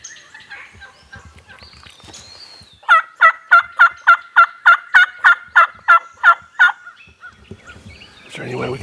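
A wild turkey gobbler, a big long-bearded tom in full strut, gobbles loudly and nearby in a rapid run of about a dozen evenly spaced rattling notes. Softer clucks come before it outdoors, and a louder rustle closes the sequence.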